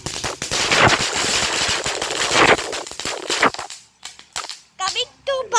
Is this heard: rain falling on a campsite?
no